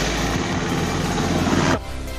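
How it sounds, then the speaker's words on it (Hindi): A helicopter flies near a very tall Shiva statue overlooking a highway, heard as a loud, continuous rotor-and-engine roar that dominates, then drops off sharply toward the end. "और ये हेलीकॉप्टर कहाँ गई ये आ रही हेलीकॉप्टर"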